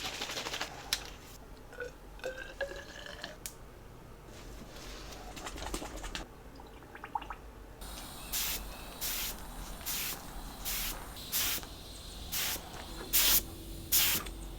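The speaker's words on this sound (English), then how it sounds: "Time to spray some Cerakote." A spray gun sprays tungsten Cerakote coating on KX250 dirt bike parts, hissing in a series of short, sharp bursts, evenly paced, close and fairly loud after a quieter stretch of scattered clicks.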